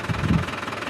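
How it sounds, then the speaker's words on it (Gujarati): A tractor engine runs close by, a low steady rumble with a heavier surge in the first half-second, carrying on evenly through a short stretch of farm work with no talking. "ટ્રેક્ટર પણ શરૂ થઈ ગયું છે"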